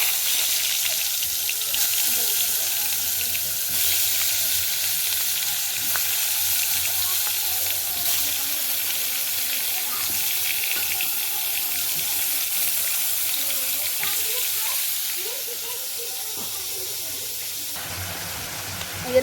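Eggplant coated in turmeric and salt frying in hot oil, a steady, broad sizzle that holds evenly for the whole stretch with faint kitchen clatter beneath.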